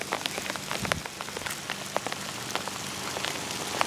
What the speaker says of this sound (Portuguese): estamos tomando banho de chuva